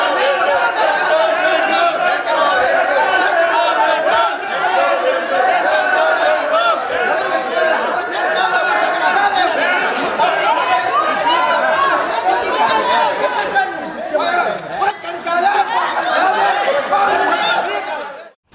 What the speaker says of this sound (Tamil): மேஜை மீது ஏறி நின்றும் பதாகைகளை கிழித்து எறிந்தும் இரு தரப்பினரும் மாறி மாறி வாக்குவாதத்தில் ஈடுபட்டதால் கூச்சல் குழப்பம் நிலவியது